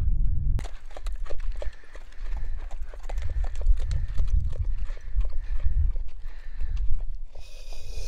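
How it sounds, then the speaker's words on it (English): Horses clip-clopping on a hard surface, hooves close and steady, with a faint whinny and other animal sounds mixed in. "Horses."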